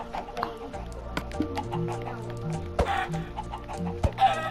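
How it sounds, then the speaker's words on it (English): Chickens clucking in the Minecraft video game, short repeated clucks scattered over busy game noise and background music. "You need to kill some chickens."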